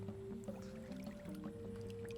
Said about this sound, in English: So I'll probably just scoop some from the bottom here, from about the middle layer.